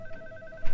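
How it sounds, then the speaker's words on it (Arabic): A telephone rings indoors in a home, a steady electronic warble repeating at moderate volume with no talk over it. "مفيش حد هيرد على التليفون؟"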